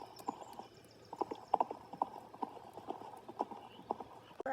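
Hooves of a digital horse being ridden in a horse-riding video game, a steady clip-clop rhythm of close, distinct hoofbeats repeating throughout with no talking.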